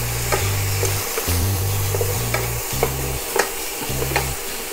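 Teochew radish cake is stir-fried in a pan, with a constant sizzle under repeated scraping strokes of a spatula and a few sharp clicks, close and fairly loud with no talking.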